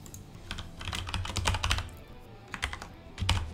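Keys clatter steadily on a computer keyboard as code is typed, with bursts of quick strokes and short pauses, close and fairly quiet with no talking.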